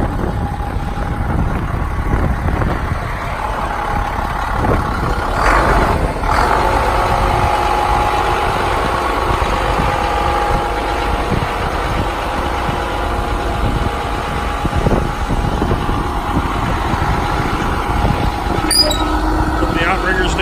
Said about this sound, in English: But we'll go ahead and engage the PTO and operate the hydraulics.